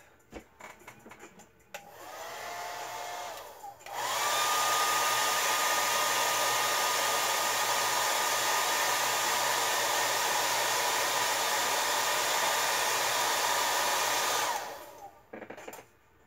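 Hair dryer blowing steadily to dry a coat of paint on a handmade prop wand, starting briefly, pausing, then running loud and continuous for about ten seconds before switching off.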